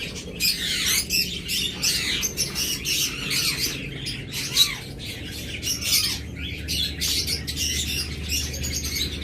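Budgerigars of many colour mutations, kept in colony and cage setups for sale, chatter nonstop nearby, a thick layer of rapid chirps and harsh squawks with no pauses.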